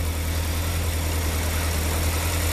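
A Rover P6 car engine idles outdoors in the cold, making a steady, even low rumble with a constant droning hum and no talk over it.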